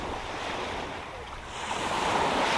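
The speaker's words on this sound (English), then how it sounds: "I think it is wind." Wind gusting by the sea during crab fishing, a steady broadband rush with surf-like swells that grows slightly louder toward the end, no talking.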